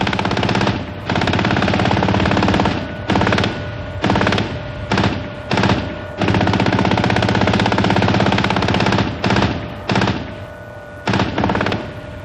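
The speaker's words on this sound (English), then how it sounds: "Machine gun batteries must be manned and manned quickly, as enemy targets appear less than 100 yards away." Army tank machine guns fire in long sustained bursts broken by brief pauses, dense rattling gunfire that is loud, close and relentless, with no voices heard.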